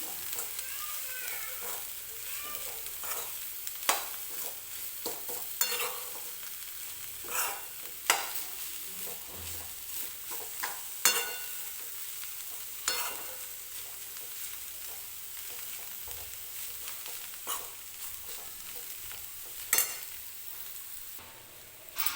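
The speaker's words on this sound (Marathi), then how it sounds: "व्यवस्थित तेलामध्ये मिक्स करून घ्यायची आहे आपल्याला ही भाजी जी आहे ती" Safflower leaf greens stir-fried in oil, with a steady sizzle beneath repeated sharp scrapes of a spatula against the pan at irregular intervals, close and moderately loud, no talking.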